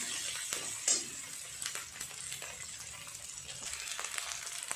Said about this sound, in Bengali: আদা বাটা আর দুটো কাঁচা লঙ্কা চেলা করে রেখেছিলাম, দিয়ে একসাথে সুন্দর করে আর একটু ভালো করে ভেজে নেব